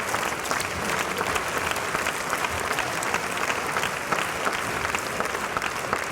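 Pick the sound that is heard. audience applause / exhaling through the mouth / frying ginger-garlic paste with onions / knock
audience applause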